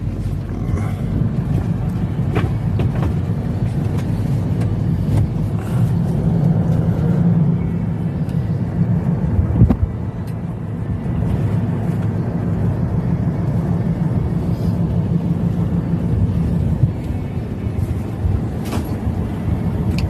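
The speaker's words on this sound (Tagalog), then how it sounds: "Traffic." Road traffic noise near Trinoma Mall in Metro Manila, a steady loud rumble of passing vehicles with wind buffeting the microphone, continuous throughout with a few brief thumps.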